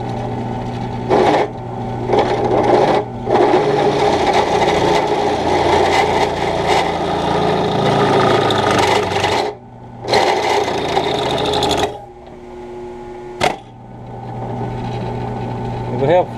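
A General 825 drill grinding jig with oil on the bit hums steadily as a drill runs, cutting off briefly several times before restarting, with someone talking over it at times.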